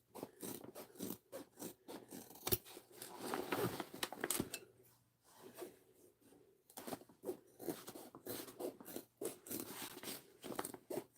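Small hand scissors snipping fabric while a backpack is sewn, a string of close, crisp cuts in uneven bursts with brief pauses between them.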